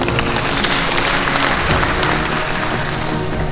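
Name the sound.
audience applause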